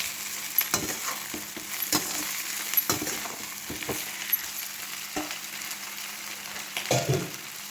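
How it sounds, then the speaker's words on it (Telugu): Sliced bitter gourd fries in oil over medium heat, with a steady soft sizzle and irregular clinks and scrapes as it is stirred in the pan, close and fairly quiet. "మీడియంలో పెట్టుకొని మనం కలుపుకుంటూ ఉండాలి"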